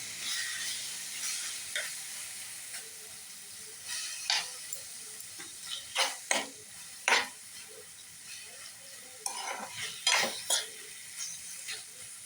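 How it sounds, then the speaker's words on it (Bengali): Leftover mixed vegetable curry with yardlong beans and okra heated in a pan, with a steady hiss of steam and gentle sizzle under repeated scraping clinks of a spoon stirring against the metal. "এবার তরকারিটা গরম করে নিই"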